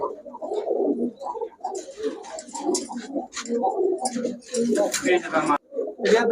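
Indian Kaldom pigeons coo in soft, low, repeated bursts close by, while people talk over and between the calls.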